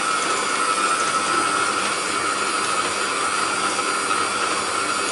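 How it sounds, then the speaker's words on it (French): An electric stand mixer whisks meringue at steady high speed, giving a continuous loud whirring hiss with no pauses and no talk. "Maintenant, on va fouetter jusqu'à total refroidissement."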